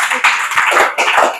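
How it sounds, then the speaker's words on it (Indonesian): A church congregation at a youth worship service claps together in loud, close bursts of applause, with short uneven swells across a second and a half and no speech. "Kita berikan tepuk tangan bagi Tuhan Yesus."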